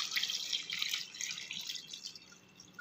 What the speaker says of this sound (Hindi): अभी हम इसके अंदर शामिल करेंगे पानी।